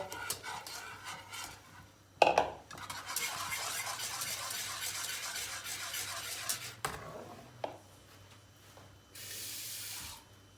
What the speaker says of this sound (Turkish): Kaynayan çorbamıza sosu ilave ediyoruz karıştıra karıştıra.